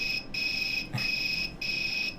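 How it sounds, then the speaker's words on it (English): An electronic cricket chirp from a homemade soldered sound-effects circuit, a shrill, steady buzzing tone repeating in regular bursts with brief gaps, clear and close with no voices. "Here's a cricket."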